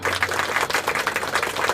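Audience at a motivational talk applauding, a dense steady wash of many hands clapping at once, close and loud throughout with no break, no voices standing out above it.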